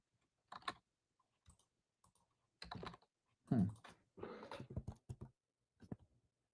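Computer keyboard keys clacking in a few scattered bursts, close and fairly loud against near silence, with pauses between clusters of presses.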